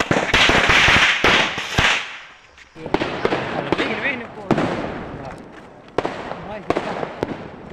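Firecrackers crackling and bursting in rapid loud bangs during Diwali, followed by a few scattered sharp pops, with people talking nearby.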